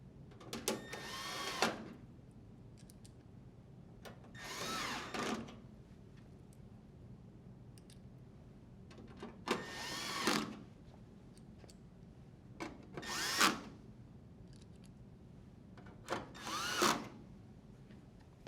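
A power drill spins screws into a dryer panel in five separate whirring bursts, each a few seconds apart with quiet gaps between, close and moderately loud.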